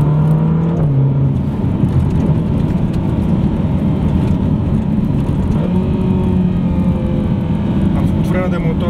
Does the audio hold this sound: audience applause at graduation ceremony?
no